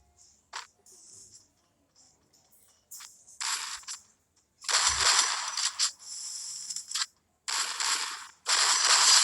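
Shotgun fire in a video game, with several loud, sharp bursts in the second half of the clip, mixed with clicky mechanical reloading sounds in the quieter stretches.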